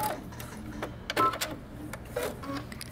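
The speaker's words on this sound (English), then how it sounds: "I'm gonna stop and backstitch" A sewing machine backstitches a seam on a coat, giving short, quiet stop-and-start mechanical whirring bursts over a low room hum.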